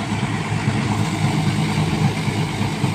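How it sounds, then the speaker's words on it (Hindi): A Mahindra turbo tractor engine runs steadily on soft lawn ground, a loud, dense, continuous mid-pitched rumble with no pauses, heard close up and alone. "देखियो जी, टर्बो ट्रैक्टर है,"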